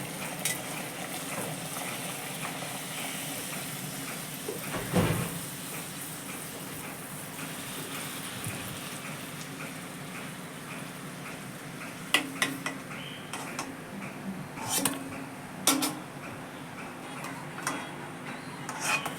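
Luchi, puffed flatbread, frying in hot oil, a steady faint bubbling hiss with occasional clicks and light clatter, no talking.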